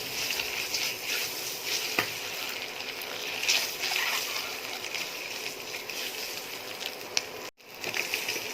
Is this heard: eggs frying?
yes